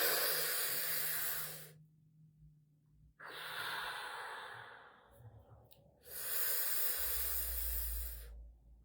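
Breathwork exercise with slow breaths drawn in through the mouth and pushed out through the nose, three long airy hisses separated by quiet pauses, close to the microphone with no talking.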